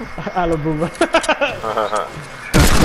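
A single loud, broadband gunshot bursts out near the end of a Fortnite match, following a stretch of excited talk from a player.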